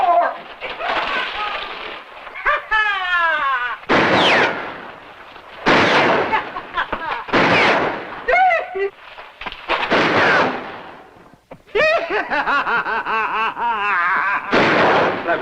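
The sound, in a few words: gunshots, someone shooting in town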